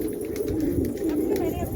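A flock of pet pigeons keeps up a low, rolling coo close by, several birds overlapping into a steady throaty murmur with no pauses.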